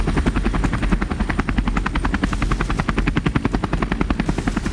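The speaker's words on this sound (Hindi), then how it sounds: "खेतों में चेतक हेलीकॉप्टर की लैंडिंग खतरनाक थी" Chetak helicopter landing in farm fields near high-tension power lines, its rotor chopping in a loud, steady rapid pulse with engine whine throughout, close and continuous with no voices.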